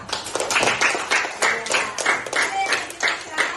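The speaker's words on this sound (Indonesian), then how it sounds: "Kasih dulu aplaus untuk Alvera." A classroom of students applauding a classmate gives a short burst of lively, fairly close clapping that runs for a few seconds and then thins out.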